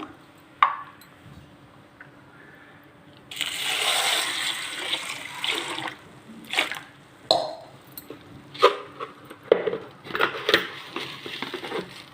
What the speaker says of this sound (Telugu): ఇడ్లీకి పప్పు నానబెడుతున్నా